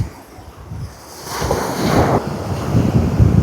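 Waves splash and wash against the shore at a salmon and sea perch fishing spot, building from a soft rush into louder surf with wind buffeting the microphone.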